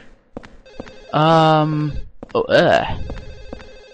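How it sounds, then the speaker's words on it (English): A telephone rings in the Silent Hill 4 video game with a loud, sustained electronic tone, then a burst of harsh warbling sound, while a person says a single word. "Is that the phone?"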